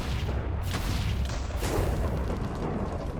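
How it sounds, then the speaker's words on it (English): A fireball spell explosion from the game Tensura: Advent of Magic, a loud sustained roaring blast with dense crackling rumble filling the whole moment. "Fireball."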